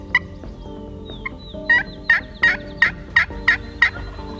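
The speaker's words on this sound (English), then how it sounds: "the only gobbles we're getting right now are about 500-600 yards away" Wild turkey gobbling at opening weekend in New Jersey, a series of about seven sharp, rapid gobbles from a bird some distance off, coming in quick succession over a quiet outdoor background.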